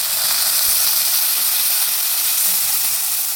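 Broth poured into a hot pan of fish curry on a village cooking fire gives off a loud, steady hiss of steam and sizzle that holds without a break.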